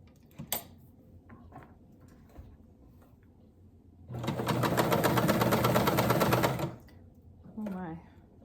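A vintage sewing machine runs a zigzag stitch on a scrap of fabric, a loud, steady mechanical chatter lasting a few seconds after quieter handling clicks, followed by a brief voice.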